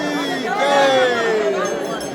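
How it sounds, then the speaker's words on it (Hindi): Large crowd of pilgrims at the Tutla Bhavani temple, a steady babble of many voices with a closer voice chanting or calling over the general hubbub. "बहुत ज़्यादा भीड़ है, बहुत ज़्यादा।"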